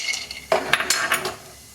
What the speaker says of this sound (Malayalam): അതിലോട്ട് ജസ്റ്റ് ഒരു 1/2 ടീസ്പൂൺ എണ്ണ ഒഴിച്ചു കൊടുക്കുക ആദ്യം. എന്നിട്ട് നമ്മളുടെ ഈ കപ്പലണ്ടി ഒന്ന് വറുത്തെടുക്കുക.